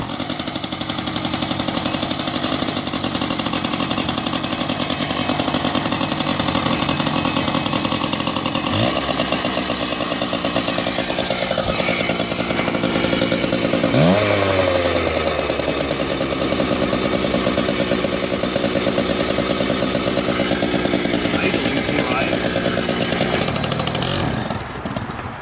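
A free dirt bike engine with the choke on runs rough and loud at close range, revving and sputtering for about 25 seconds with a sharp rev change midway, then cuts out at the end.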